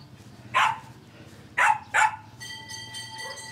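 A dog barks three times, one single bark followed after a pause by a quick pair, close and fairly loud over a quiet morning background, with a faint whine trailing after.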